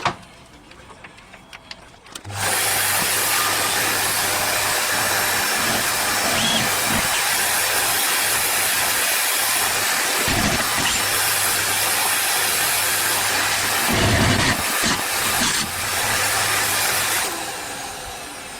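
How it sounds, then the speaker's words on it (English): A hoover vacuum cleaner and a drill run inside an MK5 Golf GTi Edition 30 during a brace install. The loud, steady whirring roar starts abruptly after a quiet moment and holds nearly constant, with a low hum underneath. "the hoover's going to go on and so's the drill."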